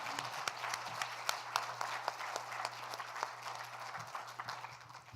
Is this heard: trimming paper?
no